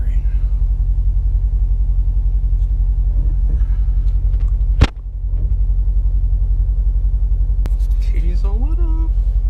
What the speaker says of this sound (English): Why is my car like stuttering?